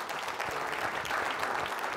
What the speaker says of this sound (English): Give Bill a round of applause